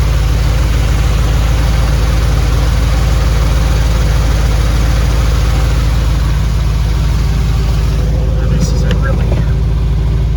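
A 1956 Flxible Visicoach bus engine idles with a loud, continuous low rumble, and a few sharp clattering knocks break in near the end.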